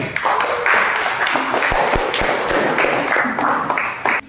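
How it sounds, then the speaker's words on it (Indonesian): Classmates applaud a group coming forward to present, a sustained, fairly loud patter of clapping blended with murmured voices and a few sharp taps. "Silakan maju ke depan, berikan semangat dan tepuk tangan."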